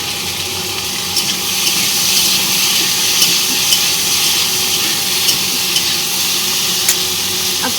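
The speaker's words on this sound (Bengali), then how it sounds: "এবার এগুলো দিয়ে দিই, একটু নাড়াচাড়া করে নিই।" Malabar spinach hisses and sizzles loudly and steadily as it fries in a pan, with occasional faint scrapes and taps of stirring close by and no one speaking.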